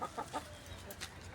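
Chickens on a farm where they sit among goats give a few soft, short clucks, faint and fairly close against quiet outdoor background, with no talking.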